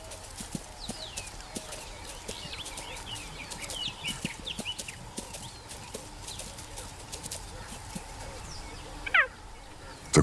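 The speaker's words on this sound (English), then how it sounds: "The quiet bleat, the bird-like chirp, tells them where to locate her" A cheetah mother calls to her hidden cubs from grass with a series of quiet, high bird-like chirps, soft bleating notes scattered over a faint outdoor background of clicks and rustles, with a sharper chirp near the end.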